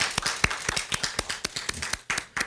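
Sparse, uneven hand clapping from a small church congregation during a Korean Sunday service, welcoming first-time visitors; distinct individual claps, close and irregular, with brief gaps.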